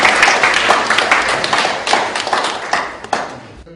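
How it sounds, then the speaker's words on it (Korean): Welcoming applause from a seated audience at a panel discussion and debate, fairly loud and dense clapping from many people that holds steady and then stops abruptly near the end. "우리 환영과 감사의 박수 한번 치시면 고맙겠습니다."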